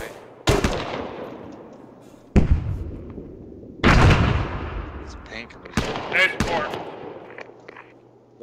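Frag grenade blasts and bursts of gunfire in the Arma 3 military shooter, with four sharp booming impacts spaced a couple of seconds apart, each trailing off into a long rumbling decay.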